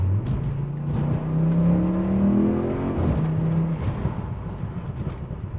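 A roughly 930 hp Audi RS6 engine revs up and settles with its exhaust valve closed, giving a steady, fairly muted exhaust drone, somewhat distant, with no talking.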